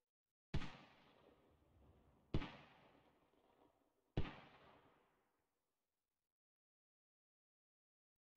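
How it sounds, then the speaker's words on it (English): Three heavy mortar explosions in the military video game Squad, each a sharp loud blast about two seconds apart with a rumbling decay, followed by silence and the onset of a fourth at the very end. "I'm going to send a few more mortars down."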